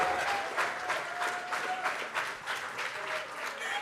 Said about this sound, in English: They clapping for you.